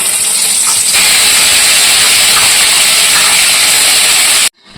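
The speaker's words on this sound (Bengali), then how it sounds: "আলুগুলো ভেজে তুলে রেখে এবার আমি ওই তেলের মধ্যেই চিকেনগুলোকে ভেজে নেব।" Chicken pieces fry in oil for biryani, giving a loud, close, unbroken sizzling hiss that holds steady and then cuts off abruptly at the end.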